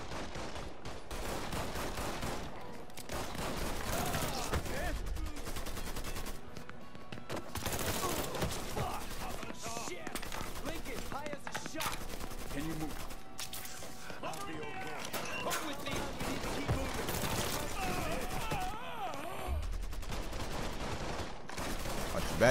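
Pistol gunfire in the video game Mafia III crackles in rapid bursts and scattered single shots over a dense, busy game mix, with someone talking over much of it.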